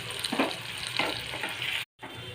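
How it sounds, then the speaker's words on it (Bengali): Chopped medium tomatoes fry in a pan for a pabda fish gravy, giving a steady, close sizzle with bursts of stirring, then a brief silent cut before the sizzle resumes. "2টো মিডিয়াম সাইজের কুচিয়ে রাখা টমেটো ফ্রাই করে নেব।"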